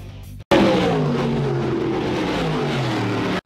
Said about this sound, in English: A lot of cars looking to make their way to victory lane here in the Sportsman at the Fonda Speedway as Doug Hancock would take the early race le